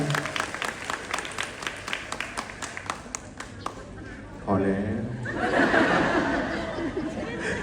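Wedding guests clap steadily in a burst of applause, then the clapping gives way to talk and light laughter, with a voice speaking over the crowd noise near the end.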